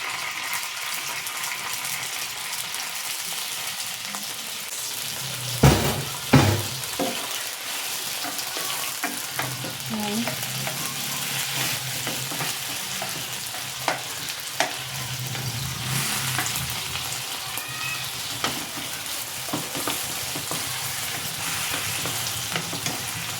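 Onion and chorizo sizzle in Century Tuna oil in a pan, a steady close frying hiss for the whole stretch, broken by a few sharp stirring clatters near the start and scattered soft clicks later.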